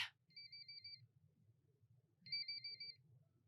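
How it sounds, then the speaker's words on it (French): Telephone ringtone in a film signals an incoming call: two bursts of a clean electronic two-tone ring, each about a second long, separated by a short pause, heard over a low steady background hum. "C'est Shion qui appelle"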